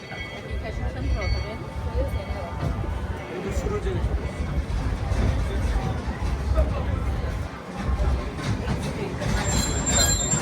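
A Walt Disney World Railroad 2-6-0 steam train, the Lilly Belle, rumbles steadily along the rails with rattling, metallic clatter and faint squeals, plus a low murmur of crowd noise throughout.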